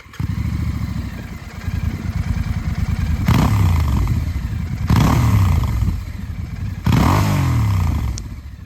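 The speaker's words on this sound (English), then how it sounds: "we replaced the muffler with an Italian Zard, which looks incredibly stylish and sounds unbelievably cool" A Royal Enfield Bear 650 Scrambler with an aftermarket Italian Zard muffler idles with a throaty, burbling exhaust, then revs sharply three times in quick succession, each blip rising loud and falling back to idle.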